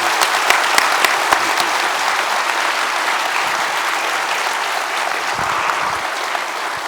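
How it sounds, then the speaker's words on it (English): Sustained applause from an audience at a RetroMagic 2023 fan event, a dense steady wash of clapping with a few sharper claps standing out near the start, loud and close, holding evenly for several seconds. "Please give them a round of applause"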